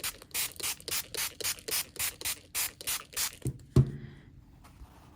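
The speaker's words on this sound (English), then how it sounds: "I am going to just spray the towel and I'm going to give it a good spritz." A spray bottle spritzes a towel about a dozen times in an even, quick rhythm, each burst a sharp close hiss, followed by a single soft thump as it is set down.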